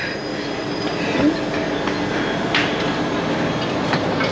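A train rolls along the rails with a continuous loud rumble, faint wheel squeals and occasional metallic clicks, heard from inside.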